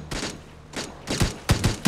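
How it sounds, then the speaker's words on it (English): Bursts of gunfire from the PUBG battle royale game, several separate volleys crackling at mid distance with sharper, louder shots near the end, no talk over them. "There's more groups firing around us"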